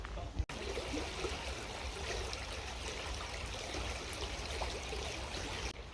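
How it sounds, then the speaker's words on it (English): Shallow, stony chalk-stream water of the River Loddon runs with a steady, close, broadband rushing and trickling, continuous throughout, with a single sharp knock near the start. "it's very, very shallow, stony water, chalk stream water, the River Loddon"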